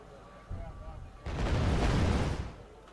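Artillery fires on a town in the real-time strategy game Wargame: Red Dragon, a heavy rumbling blast that swells and fades over about a second, with a smaller boom before it and voices faintly under it.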